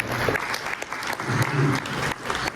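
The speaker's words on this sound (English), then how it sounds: "Round of applause for Bill for helping." An audience at a keynote gives a round of applause for Bill, steady clapping filling the room at moderate volume, with some murmuring voices underneath.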